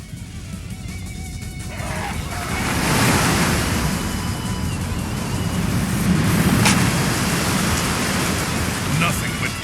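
Rushing water surges in Dynasty Warriors 6, a loud broad roar like crashing surf that swells after the first couple of seconds and keeps going, with faint battle sounds beneath.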